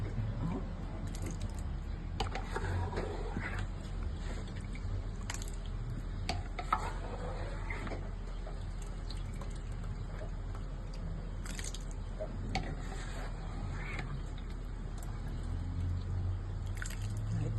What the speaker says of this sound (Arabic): هنبتدي نعجن كده